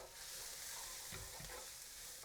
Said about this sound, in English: Now mix.